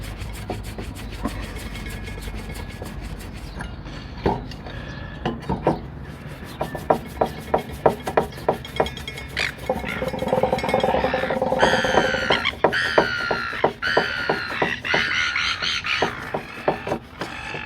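A cloth rubs steadily over the brass part of an Optimus 199 stove, a continuous close scrubbing with quick rhythmic strokes that speed up and brighten toward the end.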